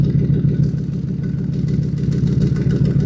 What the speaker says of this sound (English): now our idle is actually louder